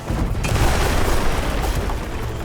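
Booming explosion from a monster's blast attack in Monster Hunter Wilds, a loud deep burst opening with a sharp hit and rolling into a sustained rumbling roar that slowly tapers.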